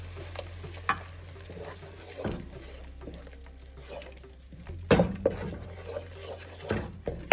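Tomato puree stirred into frying masala in a pan for a dhaba-style stuffed brinjal gravy, giving a soft sizzle under intermittent spoon scrapes and clanks against the pan, close and fairly quiet.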